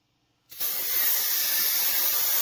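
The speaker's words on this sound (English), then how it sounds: "You have to excuse the airline here. It's leaking, so it's going to be kind of noisy and annoying for a second." A leaking compressed air line in a workshop lets out a loud, steady hiss that starts abruptly and keeps going without a break, with no voices over it.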